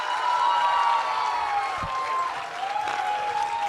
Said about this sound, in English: Can we please put our hands together for Masaba Gupta?